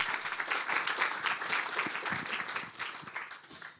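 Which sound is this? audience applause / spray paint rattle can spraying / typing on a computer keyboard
audience applause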